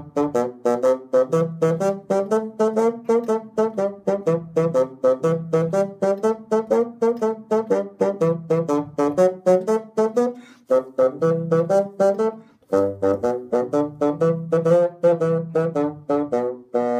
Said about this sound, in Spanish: Y ese bajo, que suena más o menos así.